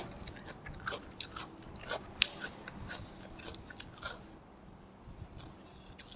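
Someone bites and chews fried meatballs with cucumber up close, with soft crunches and wet squishes recurring irregularly at a quiet level.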